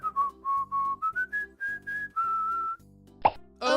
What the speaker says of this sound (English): I, President Abraham Lincoln, can now take a walk whistling Dixie